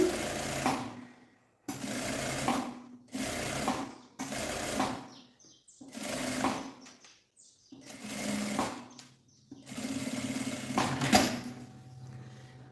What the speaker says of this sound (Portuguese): Uma costurinha de segurança.